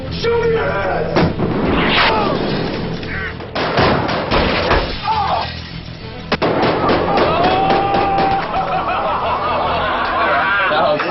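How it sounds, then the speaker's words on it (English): A .50 caliber Barrett rifle fires a few loud, sharp reports amid a busy mix of voices and background noise. "especially Taraji shooting this 50 caliber Barrett."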